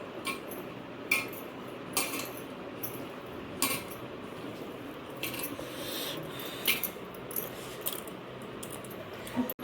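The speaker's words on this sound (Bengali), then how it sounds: "এখন এটা আমি ভালো করে মেখে নেব।" Potato filling for puchka, with chopped chilli, coriander, boiled chickpeas, black salt, onion and roasted spice, is mixed in a bowl, making quiet intermittent clinks and taps against the bowl over a low background.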